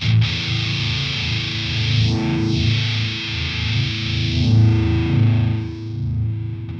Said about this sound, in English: when I sweep through with the frequency knob, it'll let you hear which frequencies, which mid frequencies we're actually cutting